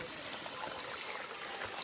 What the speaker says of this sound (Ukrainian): От звідси він витікає, вода і гарно спадає по камінню